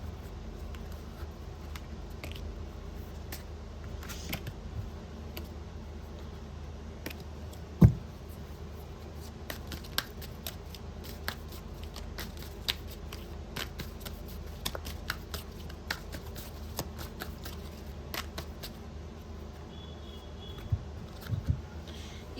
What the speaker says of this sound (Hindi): चलो थोड़ा मिक्स कर लेते हैं क्योंकि कार्ड्स उल्टा उल्टा हो गया है। गाइस दोबारा शफल करेंगे।